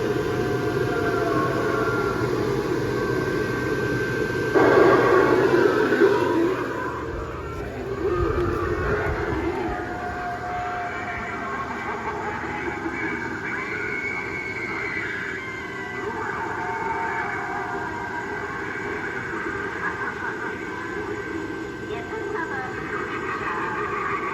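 A looping spooky soundtrack from a Halloween airblown inflatable's sound box, with droning tones and a siren-like wail, steady and moderately loud, with a brief louder swell early on.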